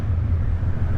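Motorcycle engine revving inside a graffiti-covered tunnel near Nada Bridge in the Red River Gorge, a steady loud low rumble with a boomy, enclosed roar and no voices.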